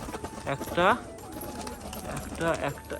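Soft, low pigeon coos rise and fall twice, close by, while a person talks over them.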